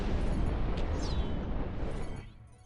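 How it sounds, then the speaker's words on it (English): A loud, dense explosion rumbles in the god game Black & White (2001), with a brief whistling streak above it, then dies away over the last half second. "Explosion."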